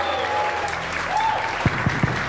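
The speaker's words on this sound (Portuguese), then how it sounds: "Então, uma salva de palmas para o Rômulo aqui" Applause from an audience at a Brazilian business event on digitalizing a company, a steady wash of clapping throughout the short moment, with a few louder nearby claps near the end.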